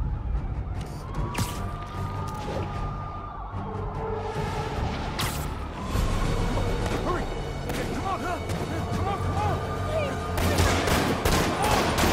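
Sniper gunfire and combat in Spider-Man Remastered on PS5, with sharp shots and thuds scattered through a dense, loud game mix of music, whooshes and a police radio voice talking throughout.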